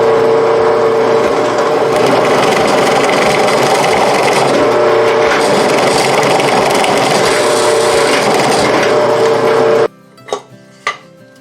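A drill press with a 3/4 inch spade bit counterbores about an inch deep into wood for a yard trailer handle: a steady loud grinding, rasping whir for nearly ten seconds, then the motor cuts out, leaving two short clunks.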